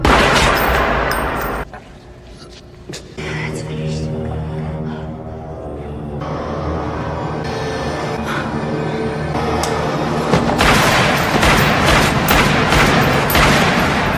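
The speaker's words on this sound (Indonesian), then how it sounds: "namun Declan mengetahui itu dan langsung menembaki Jekyll" Bursts of gunfire in the 1997 film The Jackal ring out over a dramatic film score, with heavy shots and rapid volleys rising louder toward the end.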